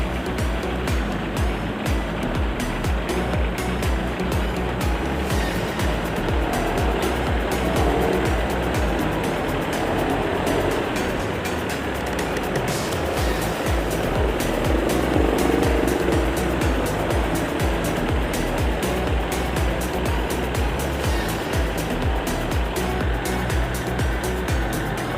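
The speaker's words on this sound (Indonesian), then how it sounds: "putaran mesin normal." A diesel engine idles while warming up, giving a steady, continuous rumble and mechanical clatter close by with no break throughout.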